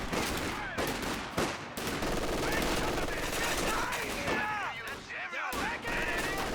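MG42 machine gun fire in Company of Heroes 2 strategy game, rapid sustained bursts rattling across the whole clip amid distant explosions and battle noise, with brief gaps between bursts.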